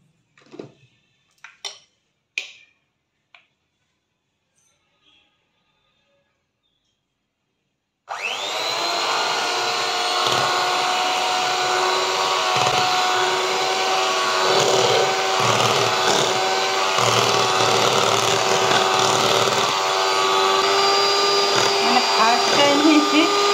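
An electric hand mixer beats custard for homemade ice cream. A few faint clicks come first, then after a short silence the motor starts with a loud, steady whine that runs on continuously.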